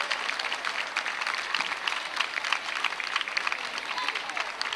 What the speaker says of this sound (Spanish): Ese aplauso a las Fontanales